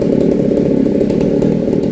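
A chainsaw cuts steadily through large khaya tree branches during pruning, a loud, close, continuous buzzing motor with no pauses.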